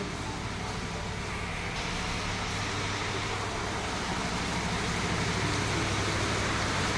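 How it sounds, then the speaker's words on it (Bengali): Rain falls by an outdoor swimming pool in Mayapur as a dense, even hiss that holds at a constant level for the whole stretch, with no clear voices. "বৃষ্টি হচ্ছে।"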